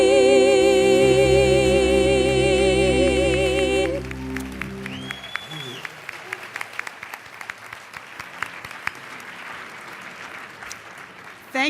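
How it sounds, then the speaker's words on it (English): Audience applause for the Gratitudes performing group, breaking out after music fades and continuing as steady clapping of a moderate crowd for several seconds. "Thank you for your round of applause for the Gratitudes, Renee Lopez, Arthur Anderson, Connie Floren"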